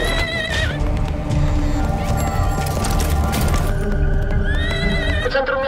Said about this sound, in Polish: W centrum miasta biega koń